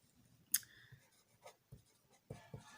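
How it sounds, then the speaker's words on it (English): Handwriting an example sentence, likely pen or marker on a surface, heard as a few short, scattered scratchy strokes with pauses between them, close and fairly quiet, with no talking. "Now I'll write an example of this."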